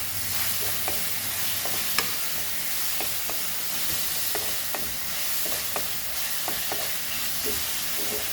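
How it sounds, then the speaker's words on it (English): Chili dropped into hot frying oil for a non-spicy Goan sardine stew without coconut, a loud, continuous close sizzle and hiss with scattered small pops and light stirring clicks, no voices. "And we'll add this chili."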